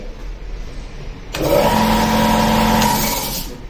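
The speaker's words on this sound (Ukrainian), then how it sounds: "сьогодні я вже встановлюю трьохфазні мотори" A newly installed three-phase electric motor starts up about a third of the way in, then runs with a loud, steady whirring hum carrying a constant tone until the end. No one speaks.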